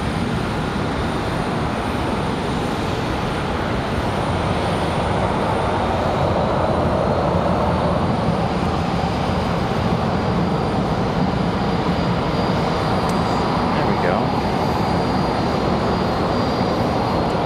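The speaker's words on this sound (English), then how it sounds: "So our next departure is going to be that American 1473 off to Columbus, Ohio" An American Airlines Boeing 737-800 departing Charlotte airport, a loud, steady broadband engine roar that holds constant throughout with a faint rising whine near the end.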